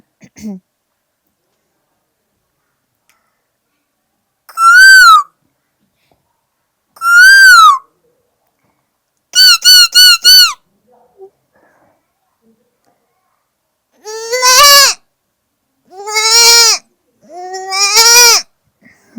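A person's voice imitates a cuckoo and a goat in a series of separate high, warbling calls and bleats, some quick and stuttered, with quiet gaps between them.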